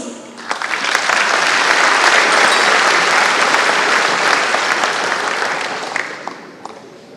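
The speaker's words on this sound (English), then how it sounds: "Round of applause, please." Dinner audience at a European business association gala in Taipei applauds a guest being welcomed: a loud, dense burst of clapping from a full room that builds quickly, holds steady, then tapers off.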